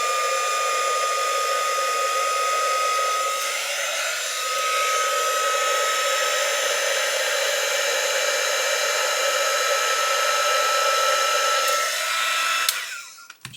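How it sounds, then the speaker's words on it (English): A small hot air dryer blows steadily to heat parts of a 1/8 scale Pocher Porsche 917 model car, a loud, even whine and rush that holds for over ten seconds before cutting off abruptly at the end. "hot air dryer."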